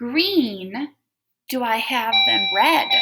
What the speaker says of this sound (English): Oh, that's our doorbell.